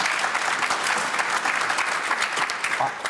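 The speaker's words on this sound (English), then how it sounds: "the one thing that gets me applause is this" Studio audience clapping on a televised political debate panel, a dense continuous round of applause from a sizeable crowd, steady and fairly close.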